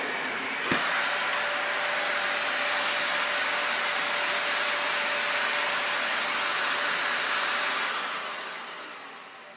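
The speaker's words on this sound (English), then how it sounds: "And we vacuumed it again now with this vacuum." A Dyson Ball Animal vacuum cleaner running on a room floor, a loud steady airy whoosh with a faint whine that starts with a thump and fades out as the motor winds down near the end.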